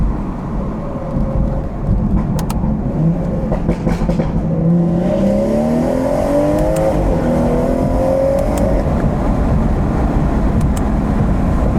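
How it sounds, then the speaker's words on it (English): A stage 2 BMW 440i pulls hard in second gear on a backroad, its engine note climbing steadily in rising sweeps over a loud, continuous roar heard from inside the car. "Second gear pull right here."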